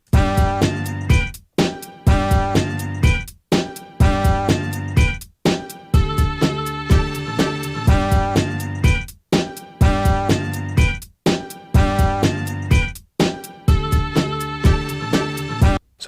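A looped sampled beat of chopped vocal fragments layered with punchy kick, snare and hi-hat plays in repeating bars, each phrase cut off by short gaps, loud and up front with no talking.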